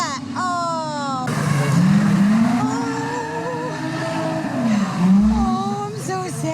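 A Nissan 350Z drifts with long, wavering tire squeals and a revving engine close by, the screeching rising and falling over several seconds while excited voices exclaim underneath.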